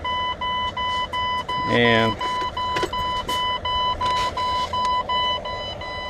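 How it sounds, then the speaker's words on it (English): A truck's low air pressure warning beeps steadily in short even electronic bursts, with a person speaking briefly over it partway through. "You see now it's beeping, meaning that it's low air pressure, because I lost air."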